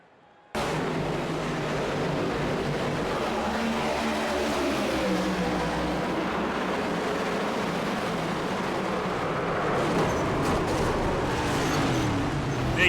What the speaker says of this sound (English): Big hit up into the outside wall.